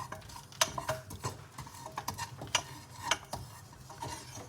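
Cumin seeds heat dry in a pan while being stirred, giving soft scraping and rustling with a few sharp clinks of the utensil against the pan. No voices.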